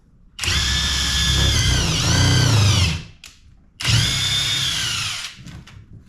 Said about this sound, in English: Let's drill another hole.